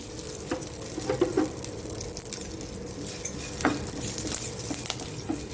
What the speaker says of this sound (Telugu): ఇలా మినపప్పు శనగపప్పు కొంచెం ఫ్రై అవ్వనివ్వాలి కాసేపు ఇలా కలిపెట్టుకోవాలి